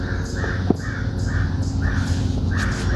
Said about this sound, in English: crows going in the back, some other birds, you know, typical sounds of summer